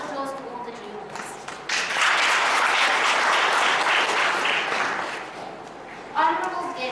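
An audience at a ceremony for juniors bursts into warm applause lasting several seconds, many hands clapping together, with voices speaking briefly before and after.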